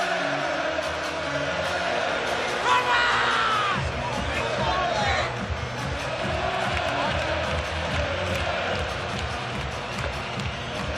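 Large arena crowd at a heavyweight boxing match, Dave Allen vs Arslanbek Makhmudov, roaring and cheering in a steady, dense wash of noise, with a commentator's voice over it.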